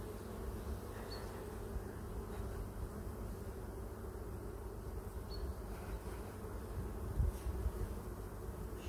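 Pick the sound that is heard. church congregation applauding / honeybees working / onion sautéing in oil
honeybees working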